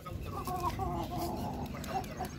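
Chickens on a rooftop cluck and squawk close by in a short, busy burst as a rooster flies off, with no one talking.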